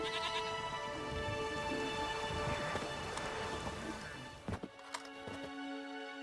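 Steady rain hisses in The Witcher 3 video game, with sheep bleating nearby, before the ambience thins out and drops away toward the end.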